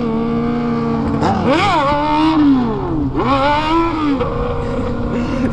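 A Honda Hornet motorcycle engine roars loud and close, rising in a sharp rev, falling back, then revving up again over a constant rumble.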